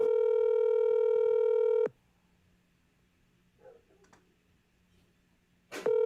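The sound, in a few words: phone call dialing and ringing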